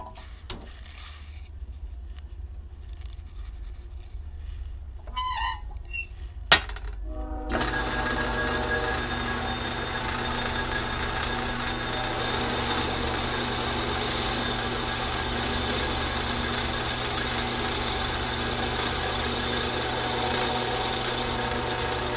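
A machine cuts a foundry pattern with a steady, close mechanical whine and harsh chatter after a few quiet seconds and a sharp knock, running continuously to the end.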